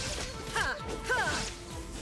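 A glassy shattering crash with ringing, sparkling tones, followed by a second one, layered over a busy electronic soundtrack from Genshin Impact.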